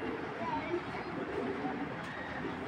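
A Python-breed racing pigeon cooing softly in a loft amid steady background murmur, with someone talking over much of it.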